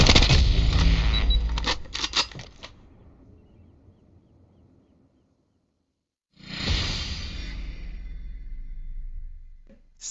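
Rapid automatic gunfire bursts in the mobile shooter game Call of Duty Mobile, a loud rattling volley at the start, a quiet gap, then another sustained burst of shots closing the clip, with no talk.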